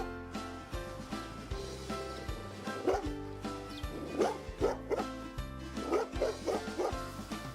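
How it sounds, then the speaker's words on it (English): Nine-month-old Great Pyrenees Golden Retriever mix barks repeatedly at close range, a run of deep woofs mixed with higher yips and whimpers in an irregular rhythm. "Next up is Max, a Great Pyrenees Golden Retriever mix"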